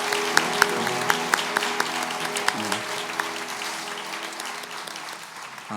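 Congregation applauding during a church Sunday worship service: steady mid-distance clapping with a few sharper individual claps standing out, over sustained organ-like tones, fading slightly toward the end.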